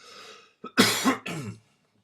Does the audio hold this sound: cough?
yes